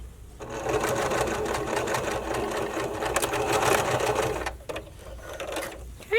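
A sewing machine runs steadily and close, stitching channeling along a bra cup seam, with a continuous motor whir and needle patter that stops briefly near the end.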